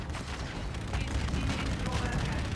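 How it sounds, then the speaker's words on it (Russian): An enemy destroyer exploding in the video game Call of Duty Infinite Warfare, a heavy sustained booming roar with crackling debris, loud and continuous, with a voice talking faintly underneath. "Он круто взорвался."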